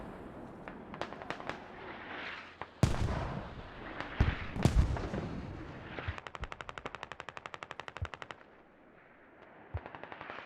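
Mortar and gunfire boom through a military video game, a few heavy low blasts mixed with rapid automatic bursts and a sustained rattling stretch of fire, all fairly distant and unaccompanied by talk.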